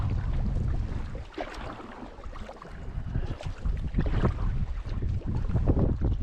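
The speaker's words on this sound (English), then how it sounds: "this cold wind goes straight into your bones" Cold headwind gusts buffet the microphone on a lake during a canoe paddling trip, a rough rumbling roar that swells and fades unevenly, with water and paddle sounds mixed in.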